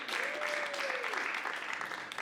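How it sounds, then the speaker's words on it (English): Comedy club audience applauding during a stand-up set, a steady wash of clapping that holds through the whole moment, with a faint voice briefly rising underneath. "Round of applause for that"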